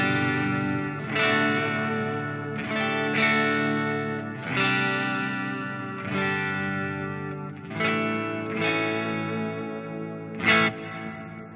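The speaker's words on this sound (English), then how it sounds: "But hey, what a great sounding reverb." A clean electric guitar played through an amp rig with a long ambient reverb rings out in sustained chords, each strum blooming and trailing into a wide wash that overlaps the next.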